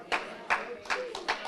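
Four or five sharp claps land at an even, unhurried beat during a church sermon, with a voice murmuring faintly beneath them.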